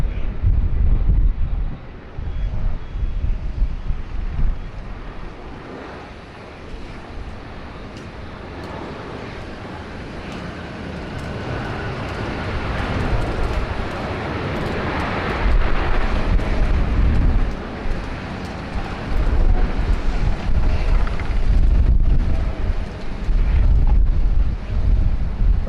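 A Jetstar Airbus A320 airliner passes at Sydney Airport with a broad, roaring jet rumble that swells and stays loud. Gusty wind buffets the microphone throughout.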